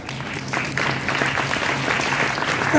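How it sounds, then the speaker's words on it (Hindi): Audience clapping at a devotional song gathering, a steady moderate patter of hands that rises a little after the first half second, with no clear voices over it. "तालियां किस पे बजा रहे हो?"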